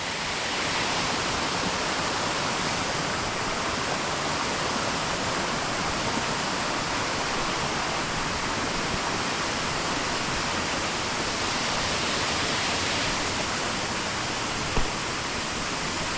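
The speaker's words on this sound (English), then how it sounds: "But I just wanted to show you where the waterfall starts from." A waterfall at Stainforth pours steadily close by, a dense unbroken roar of falling water with no pauses and no voices.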